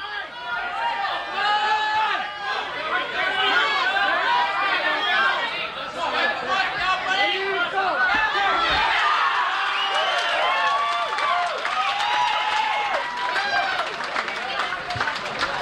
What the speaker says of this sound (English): Let's cheer these guys on.